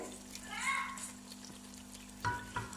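Poppy seeds frying in oil with chicken for a chicken khandviyaan gravy, a faint sizzle and stirring under a woman's speech.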